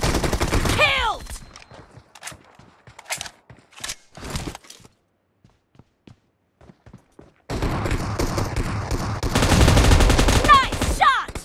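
PUBG Mobile Team Deathmatch gunfire: a burst of shots at the start, sparse single pops and footsteps through a quieter middle, then dense, loud automatic fire toward the end, with game voice callouts.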